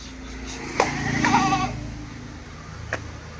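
Crossbred hornless goats at a livestock sale bleat in a few short cries over background noise, one louder call near the start and a fainter one later, no talk.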